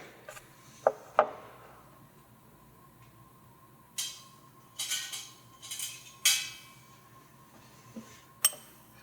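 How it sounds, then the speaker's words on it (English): Light clinking and scraping as magnesium ascorbyl phosphate and hyaluronic acid powders are stirred together in a small container, a scattered series of soft taps and rubs over a quiet background with a faint steady hum. "So we're going to mix these two powders together."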